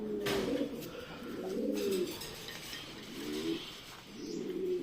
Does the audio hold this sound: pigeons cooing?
yes